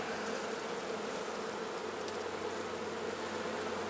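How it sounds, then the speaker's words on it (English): Honeybees drone in a dense, continuous buzz at an open hive during an October inspection, steady and close with no voices. "There's a lot of small bees, which are probably young, newly hatched, overwintering bees."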